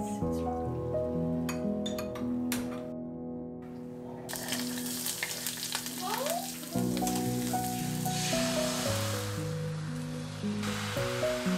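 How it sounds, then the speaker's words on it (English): Onions and a green chili sizzle steadily in a hot pan, with a constant close frying hiss and scattered spatters and some clinks of kitchen utensils over it, and no talking. "I'm frying the onions and one green chili along"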